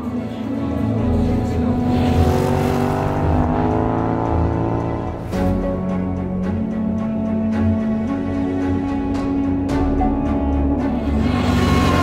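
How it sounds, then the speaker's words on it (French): Quads and SSV off-road vehicles drive along a long desert track toward Erfoud, north of Erg Chebbi in Morocco, their engines a steady loud drone with rising and falling pitch throughout. "les quads et SSV vont reprendre la direction d'Erfoud par une longue piste"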